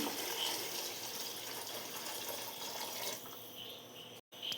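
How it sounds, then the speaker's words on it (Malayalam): Water is poured into a pot for mushroom biryani, a steady close liquid rush that eases off toward the end, with no talking. "നമ്മളിനി എടുത്ത് വെച്ചേക്കുന്ന വെള്ളം ഇതിലേക്ക് ഒഴിച്ചു കൊടുക്കുകയാണേ"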